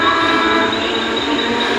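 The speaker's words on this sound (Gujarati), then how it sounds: "ટ્રેન આવે છો ભાઈ" A train arriving at a station at night, a loud, close, sustained rumble and roar with no break and no speech audible.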